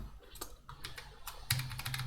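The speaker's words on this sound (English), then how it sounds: "I don't know what I'm typing here" Quick bursts of keyboard typing while coding a puzzle solution, clustered keystrokes near the microphone with a louder flurry toward the end, no voices.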